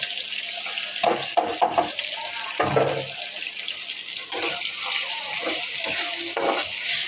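Tomato and onion frying with dried fish (shutki) for a bhuna make a steady sizzle broken by irregular scraping stirs of a spatula in the pan, heard up close.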